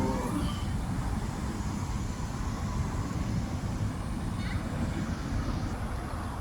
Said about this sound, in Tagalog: Ayun ang tren. Paalis.